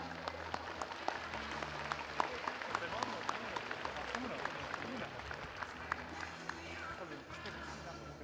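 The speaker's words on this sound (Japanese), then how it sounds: "大きな拍手でお迎えください。" An arena crowd at a basketball fan festival in Kariya applauds to welcome a participant, a steady wash of distant clapping with sharper individual claps, while a presenter talks under a low background hum.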